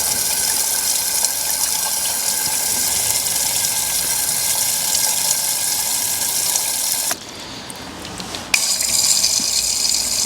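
Water gushes steadily through a Corvette C5 engine, washing metal swarf out of it. The loud, continuous rush breaks off briefly near the end and then resumes.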